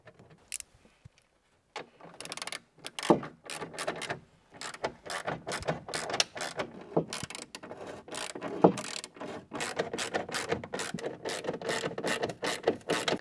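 Nuts being fitted and tightened on the door handle of a Volvo V70, giving close, irregular metallic clicks, ratcheting and rattles in short bursts after a quiet start, with no talking.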